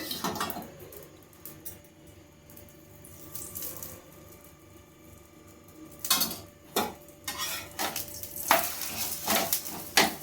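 Aloo paratha frying on a hot tawa as oil is spooned over it, a low sizzle early on that swells into loud crackling bursts of spattering oil in the second half, with no talking.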